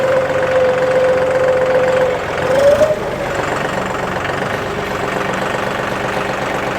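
A John Deere 5210 Gear Pro 4WD 50 hp tractor engine runs at a loud, steady idle-like rumble while reversing in C gear, with a brief whine and shift in tone partway through before settling back to an even drone.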